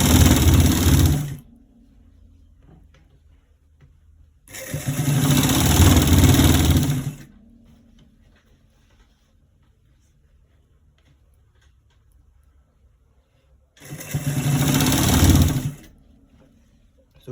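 A sewing machine stitches a collar roll neck in three separate loud bursts of whirring motor and needle rattle, with quiet gaps between runs.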